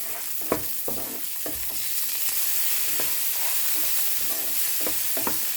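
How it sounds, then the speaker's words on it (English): Fried rice ingredients with carrot, corn and luncheon meat sizzle steadily in a hot pan, with repeated scraping and tossing strokes from the stirring, close up and with no talking. "Now add the luncheon meat and continue on stirring."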